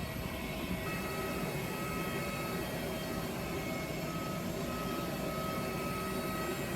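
A steady, moderately quiet drone from the engines of a 17-year-old AirAsia Airbus A320, heard from inside the cabin as a continuous broadband hum with faint tonal whines and no talking.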